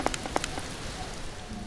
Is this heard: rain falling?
yes